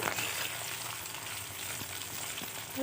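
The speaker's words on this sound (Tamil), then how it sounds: "இப்போ கட் பண்ணி வச்சுருக்கிற கத்திரிக்காயை சேர்த்துக்கலாம்" Cut eggplant and a small chopped tomato fry in a pan, giving a steady, close, even sizzle that carries on without a break and has no talk over it.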